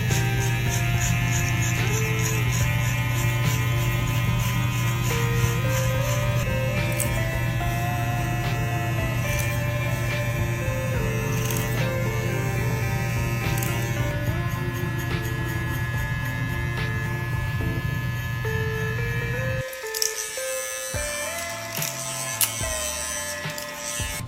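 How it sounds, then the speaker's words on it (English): A TPOB Play Mini cordless hair clipper hums steadily while it cuts a boy's hair, a close, continuous electric buzz with slight changes in pitch as it moves. It cuts off near the end, leaving brief, quieter handling sounds. "we're gonna go and use this clipper on my son and let you guys see the final product"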